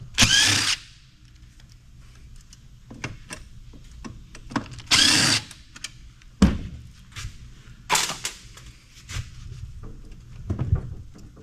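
A power screwdriver backs screws out of a CD-ROM SCSI tower casing in several short, loud whirring bursts with clicks and handling knocks in between.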